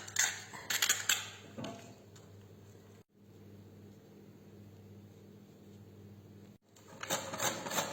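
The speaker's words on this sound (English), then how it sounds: "Using mandolin for really thin slices." Fennel is sliced very thin on a mandolin, with quick rhythmic scraping strokes in two close bursts at the start and end and a steadier low hum in between.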